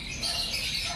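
A pet bird chirps in a fast, high twittering run, close by, over a steady background hum.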